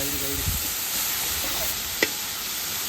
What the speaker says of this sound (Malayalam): കുറച്ച് തക്കാളി നമ്മൾ നേരത്തെ അരിഞ്ഞു വെച്ചത് അത് ഇട്ട് കൊടുക്കാം അതൊന്ന് ഇളക്കി കൊടുക്കാം